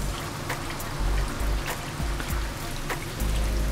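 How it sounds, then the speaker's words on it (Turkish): Lokma dough frying in hot oil gives a dense, steady crackling sizzle, like heavy rain, close and continuous throughout. "Şu an yavaş yavaş kızarmaya başladı kızgın yağda."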